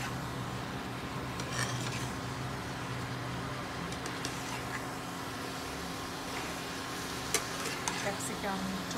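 Chicken with capsicum, tomato and onion stir-frying in butter in a pan, a continuous close sizzle with scattered scraping and stirring clicks throughout.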